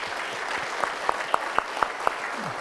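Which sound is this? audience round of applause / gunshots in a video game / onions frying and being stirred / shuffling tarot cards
audience round of applause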